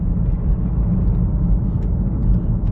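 Steady low rumble of a BMW 116d with a 1.5 litre diesel engine cruising at about 30 mph, with road and tyre noise on upgraded alloy wheels, close and continuous with no one speaking.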